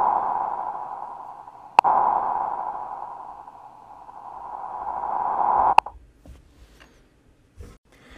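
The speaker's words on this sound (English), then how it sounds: "it's going to reverse the recording and play it backwards." A LiSa sampler in ChucK plays back a recording that reverses direction, giving a steady sine-like electronic tone that swells and fades, broken by sharp clicks at the loop points and trailing into scattered faint blips.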